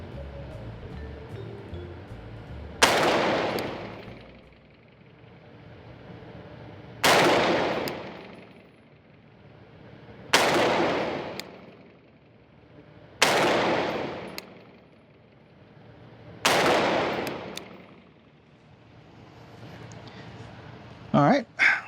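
A 16-inch AR upper in .223 Wylde fires 5.56 Winchester white-box 55-grain full metal jacket rounds at targets 50 yards away outdoors, five loud, sharp single shots spaced a few seconds apart, each trailing off in a rumbling echo, plus a quick double crack at the end.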